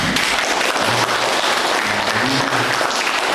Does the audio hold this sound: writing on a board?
no